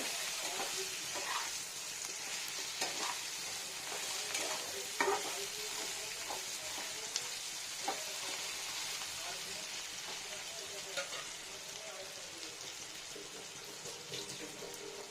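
Chilli chicken frying in oil in a pan, with a steady close sizzle broken by scattered clicks and scraping stirs, and a voice talking faintly over the cooking.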